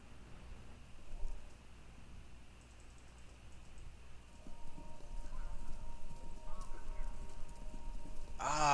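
Racetrack ambience coming over a radio in Kentucky Route Zero, a low steady murmur with faint tones and some clattering, growing louder toward the end.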